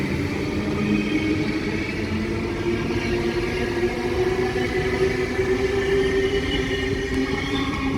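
A Sydney Tangara T set passenger train rumbles steadily through Hornsby station, a low continuous rolling drone with a faint motor whine, heard from the platform at moderate distance with no talking.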